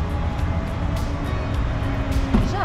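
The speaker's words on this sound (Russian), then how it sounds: "Наш автобус подъезжает." A city bus rolls up at a sunny stop in Palma de Mallorca, its low engine rumble steady and close amid street noise, with a brief rise as it nears.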